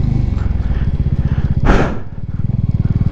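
A Bajaj Dominar motorcycle rides through Zanskar near Padum with its engine close and loud in a steady pulsing throb, and a rough burst of wind or road noise in the middle.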